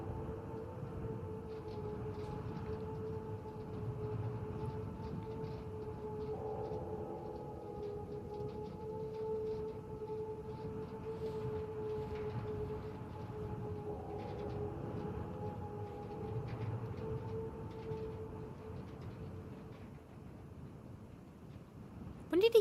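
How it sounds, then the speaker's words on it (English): A siren wails far off in found footage, a faint sustained two-tone drone that rises and falls slowly over a low rumbling background. "A siren began sounding in the distance."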